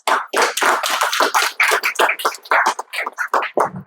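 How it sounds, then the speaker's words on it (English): Close, sharp hand claps in an irregular burst, loud and distinct rather than a large crowd, with no talking. "with a big round of applause"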